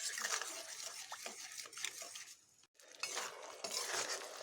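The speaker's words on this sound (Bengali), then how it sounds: "জলটাকে আমি ভালোভাবে মিশিয়ে নিচ্ছি।" Rice, spices and water are stirred in a pot, with a soft, scraping, clinking rhythm of a utensil against the pan, fairly quiet and close, with a brief pause midway.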